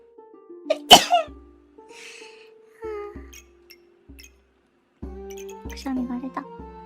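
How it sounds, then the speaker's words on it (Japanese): A single sharp sneeze bursts out close to the microphone early on, followed by scattered quiet sounds and a stretch of talking. "くしゃみが出た。"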